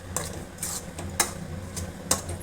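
A spatula stirs beaten egg with capsicum in a pan, giving several sharp metallic clicks and scrapes at irregular intervals over a low, steady background.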